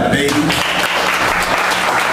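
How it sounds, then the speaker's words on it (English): Live audience applause at a talent showcase, steady clapping filling the whole stretch, with a voice briefly heard over it at the start. "Clap that up"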